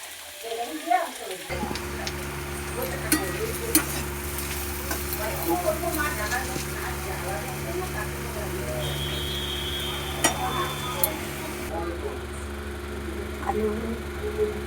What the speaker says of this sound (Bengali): আলু শিম আর গাজর ভাজি করছি।